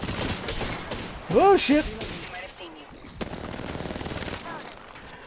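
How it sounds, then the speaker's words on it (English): Rapid bursts of automatic gunfire in Apex Legends rattle in a steady stream under a player's startled exclamation, with a louder volley early on and sustained firing through the rest. "Listen up, I'm getting shot at."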